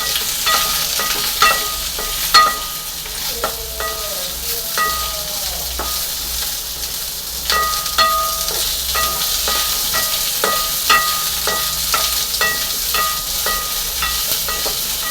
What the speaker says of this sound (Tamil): நல்லா ஓரளவுக்கு ப்ரௌனுக்குள்ளே வர்ற அளவுக்கு நம்ம வந்து வறுத்துக்கிறோம்